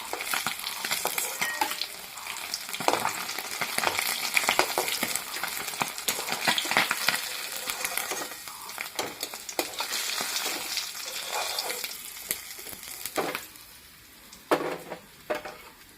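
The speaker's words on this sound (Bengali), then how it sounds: "মাছ ভাজা তেলের উপরে আমি একটু আলুগুলা ভাজে নেব।" Potatoes frying in oil left over from frying rohu fish, a steady close sizzle with occasional stirring scrapes of a utensil against the pan, no voices.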